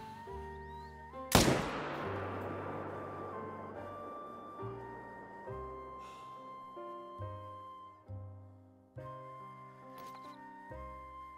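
A single sharp, loud rifle shot cracks and rings out in theHunter: Call of the Wild, a hunting video game, then fades over a steady bed of electronic tones and beeps.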